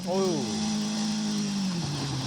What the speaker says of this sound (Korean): 엔진 소리가 엄청 크게 들리더라고요